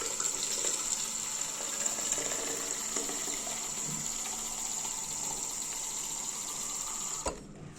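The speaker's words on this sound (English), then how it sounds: "We're gonna place some water in here." Tap water runs steadily into a sink for several seconds, a constant close hiss and splash with faint bubbling, stopping with a clunk near the end.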